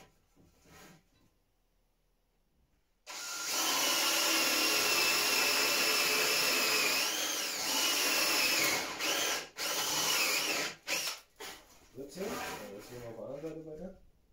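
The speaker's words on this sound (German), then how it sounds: "Vorsichtig mit dem Akkuschrauber natürlich" A cordless screwdriver drives screws while building a homemade garden row marker, a loud, steady whir that starts abruptly, then breaks into a series of short stop-and-go bursts, with a little speech nearby.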